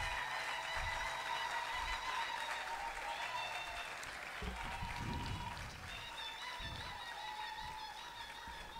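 An audience at a University of Kinshasa academic ceremony for an honorary doctorate applauds in a steady, sustained round of clapping that sounds somewhat distant and faint, with a few murmured voices underneath.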